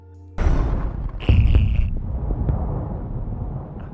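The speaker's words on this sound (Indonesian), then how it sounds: "dia pun baru sadar kalau ternyata bom itu ada di dalam pesawatnya dan bom itu pun meledak" A bomb explodes aboard an airplane in a film scene: a sudden loud, low booming blast that continues as a rumbling roar, with a sharper second burst partway through, then a long decaying rumble with scattered debris-like hits.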